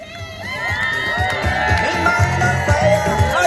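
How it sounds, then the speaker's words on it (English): A crowd claps, cheers and shouts for a barefoot charity firewalker crossing a 5-metre fire pit, a steady, loud wall of whoops and applause running throughout, with children's shouts mixed in. "when we get our first walker across, we're going to have lots of clapping, lots of cheering"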